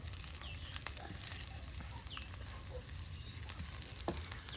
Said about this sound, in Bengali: শাক ভাজি করা হলো ভাজি করছি আর এই যে শাক ভাজি করছি